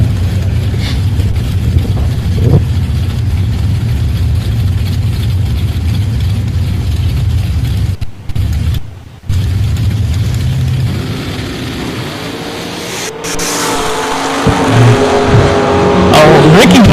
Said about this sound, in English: Ricky Johnson, left lane, 68 Camaro out of Ontario, Oregon. Dustin Wirtz, the 63 Corvette Roadster from Nampa, Idaho.